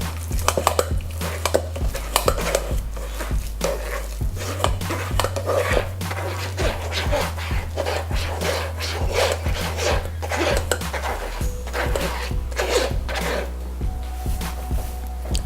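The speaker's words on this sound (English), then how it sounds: "So just lightly press the potatoes through the strainer until they've all gone through" Cooked potatoes pressed through a strainer for mashed potatoes, a continuous rasping, rubbing scrape with rhythmic strokes against the mesh, steady and close, over a low constant hum.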